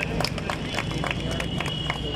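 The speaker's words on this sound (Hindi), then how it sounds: "तालियां बजा दें।" An audience at a ceremony celebrating sixty years of journalism claps steadily, a dense patter of many hands held at a fairly even level with a faint crowd murmur beneath.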